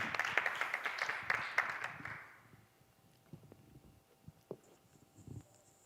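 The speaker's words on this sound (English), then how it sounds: "Please join me in giving a round of applause for this great presentation." An audience applauds at the end of a presentation in a conference ballroom. The clapping is brisk for about two seconds, then fades into a quiet room with a few scattered knocks.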